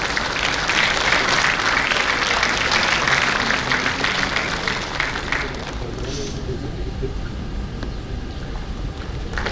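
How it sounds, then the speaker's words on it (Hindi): An audience claps at an award ceremony marking a corporate raising day, with loud sustained applause that tapers off over several seconds while a voice speaks faintly beneath it. "साथ ही में तालियों से उत्साहवर्धन करते रहिए।"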